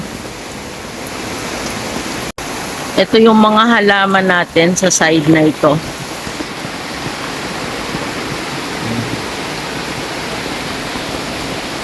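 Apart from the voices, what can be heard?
heavy rain and running water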